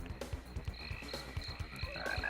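A frog croaks in a Traxxas RC racing game as a car hits it and spins out, a rapid series of low, rhythmic croaks repeating over the game audio.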